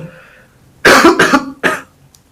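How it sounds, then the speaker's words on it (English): Three sharp, close coughs from one person, the first two loud and back to back, a shorter third after a brief pause, with quiet room tone before and after. "Accidental cough."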